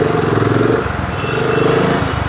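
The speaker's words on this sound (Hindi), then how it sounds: "एग्जॉस्ट नोट बहुत अच्छा है इस बाइक का।" Steady, throaty exhaust note from a BSA Scrambler 650 motorcycle running close by, a continuous low pulsing rumble with no talk over it.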